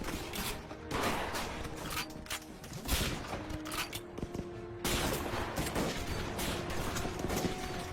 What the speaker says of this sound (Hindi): गोलियां चलाता ना मेरे भाई।